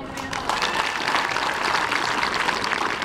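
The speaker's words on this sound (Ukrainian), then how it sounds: "Привітаємо ще раз один одного зі святом найгучнішими оплесками." An audience at a celebration of the Ostroh Academy claps in sustained, loud applause that fills the whole stretch evenly from start to finish.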